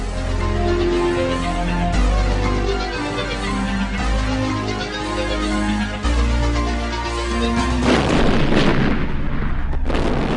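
Heavy gunfire and explosions from an aircraft attack on British battleships: dense, continuous booming and rattling that stays loud throughout, with a larger, harsher burst near the end, accompanied by music.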